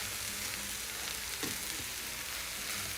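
Vegan chorizo frying in a pan, a dense, constant sizzle and crackle up close, with a brief stir or scrape partway through and no talking.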